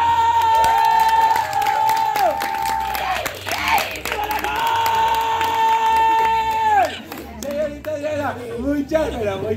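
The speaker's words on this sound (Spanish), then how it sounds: "¡El aplauso!" Audience applause and cheering at a child's birthday party with a surprise clown, crowd noise rising together over music with a sustained tone, continuous and fairly loud, with voices mixed in.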